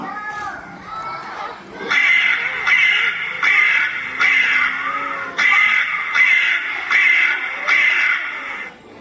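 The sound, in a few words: crow cawing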